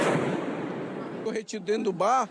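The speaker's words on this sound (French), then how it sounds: "Des coups de feu éclatent." Gunfire crackles during police clashes in Brazil, a sustained noisy burst of shots up front, then a few sharp cracks mixed with someone speaking over the end.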